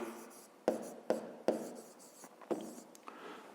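A number written by hand on paper, with four or five distinct pen strokes and taps over a faint scratching, close and quiet, no voices.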